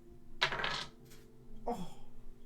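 Dice clatter across a tabletop during a role-playing game session, a sharp rattling burst followed by a second shorter roll, close and fairly loud with no talk.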